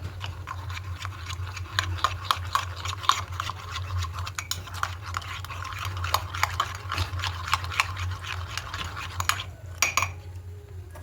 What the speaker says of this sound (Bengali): এবার এই দুধের মধ্যে এখানে 4 চামচ পাউডার দুধ দিয়ে দেবো। দিয়ে খুব ভালো করে মিশিয়ে নেব।